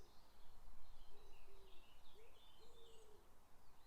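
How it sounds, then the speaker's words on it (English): Soft, distant bird calls, hooting notes like an owl, repeat a few times over a steady hiss of quiet outdoor background. "perhaps to the sound of the birds"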